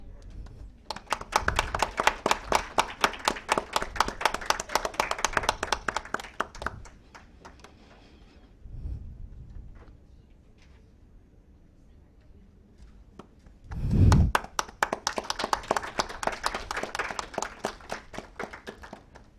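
Two bursts of audience clapping at a women in leadership summit, separated by a quieter stretch with a few scattered claps and a brief murmur before the second round swells up.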